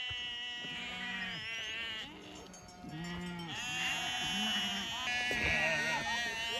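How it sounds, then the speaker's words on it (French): Sheep bleat repeatedly in a loud, overlapping flock as they are driven in for the night on a farm, with people talking over the animals throughout. "On rentre les moutons."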